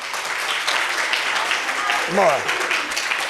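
Hall audience clapping for schoolgirls who took first position at a naat competition at the Punjab Arts Council, Gujranwala, a steady dense patter throughout with a voice briefly rising over it.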